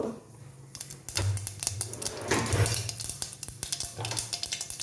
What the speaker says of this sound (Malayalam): കടുകിട്ടു